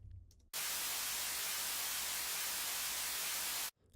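A steady wash of white noise in an EDM mix, with the right channel delayed 20 milliseconds. It holds loud and even for about three seconds, then cuts off abruptly.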